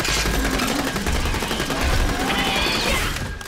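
Dense, rapid gunfire rattles without a break in the shooter game Borderlands The Pre-Sequel, loud bursts with crashing impacts layered over one another through the whole stretch.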